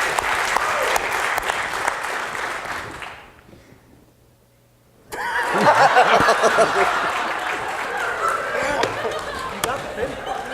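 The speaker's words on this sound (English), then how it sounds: "I got the pity clap." An audience at a raft debate claps loudly, then cuts off into near silence for about two seconds. Clapping resumes mixed with chuckles and talk.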